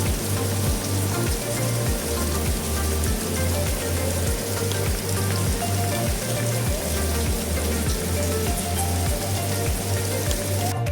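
Steady rain pours down in Pangalengan, West Java, with a dense, constant hiss, accompanied by a regular low rhythmic thumping throughout.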